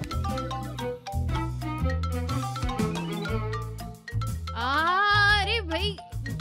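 A mobile phone rings with a looping, tinkling melodic tone that plays steadily and fairly loud, with a brief rising electronic flourish near the end.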